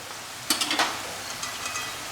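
Browned onions frying in a pan for Chicken Bagheli, a soft steady sizzle with a few brief scrapes of stirring near the start, fairly quiet and with no voices.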